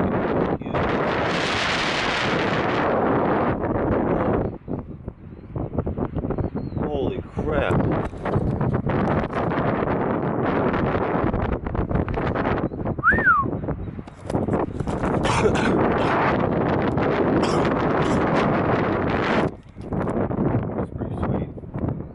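Strong wind buffets the microphone in loud, continuous gusts, with someone talking over it for much of the time.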